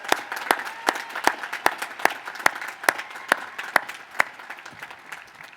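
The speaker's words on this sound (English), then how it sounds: "Let's give her one more round of applause." An audience at a university commencement ceremony for the class of 2024 gives a round of applause, heard as sharp, evenly spaced claps that ring out in a steady beat and ease slightly toward the end.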